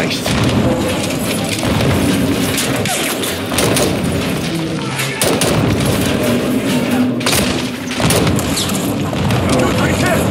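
Grenade explosions and rapid gunfire in Call of Duty Modern Warfare 2 on a difficult level, loud continuous booms and bursts of shots with shouted voices mixed into the battle noise.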